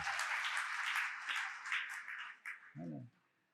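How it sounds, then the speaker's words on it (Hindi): An audience at a religious discourse breaks into applause, a dense burst of clapping that thins out and stops within a few seconds, with a short spoken word near the end. "एक बार ताली तो बजा दो।"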